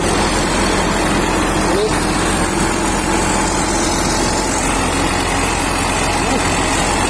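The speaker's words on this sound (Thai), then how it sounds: "เครื่องยนต์ครับน่าจะเป็นเครื่องิโน่ครับ JO 8 C Turbo" A Hino JO8C turbo truck engine idles with a steady low rumble and constant drone, close by and loud throughout, with no talking.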